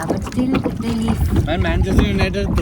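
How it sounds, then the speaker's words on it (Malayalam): A Kerala government service boat chugs past on the Vembanad backwater, its engine giving a steady, fairly loud drone throughout, with wind buffeting and voices speaking over it. "ഓരോ സ്ഥലത്തെ പ്രത്യേക സർക്കാരിൻ്റെ ബോട്ട് സർവീസാണ് കാണുന്നത്."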